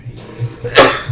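A single sharp sneeze bursts out close by near the end, over a low steady background hum.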